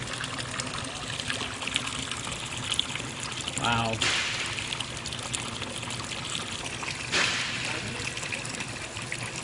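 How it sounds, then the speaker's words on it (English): Water pours out of a car engine that was overfilled with water, a faint continuous trickle and splash onto the ground outdoors, with two brief louder gushes and a voice briefly exclaiming. "It will be when it's done pouring all the water out."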